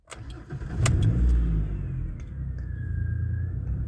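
A 2004 Ford Explorer engine cranks briefly and catches, then settles into a steady close idle rumble with a faint whine on top.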